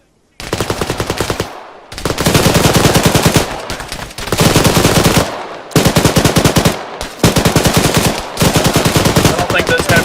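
A PKM machine gun fires in the military shooter game Arma 3. Long, loud, continuous bursts of rapid automatic fire are separated by brief pauses, close and dominant.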